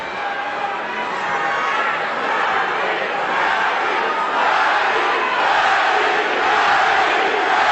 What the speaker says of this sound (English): Crowd chanting, Manny, Manny, Manny, as we expected.